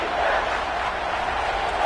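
A college football stadium crowd roars steadily as the defense holds in the red zone, a broad sustained wash of noise with no breaks.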